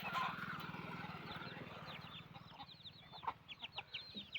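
Free-range country chickens clucking on a farm that also keeps goats, a dense chorus of hens under a low hum, with sharper individual clucks and calls breaking out toward the end.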